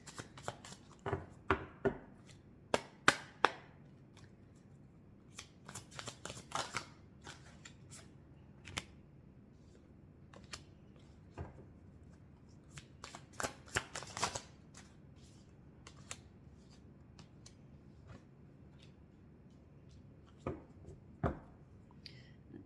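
A deck of tarot cards being shuffled by hand, crisp riffles and slaps coming in irregular bursts with quiet gaps between, close and clear with no talking.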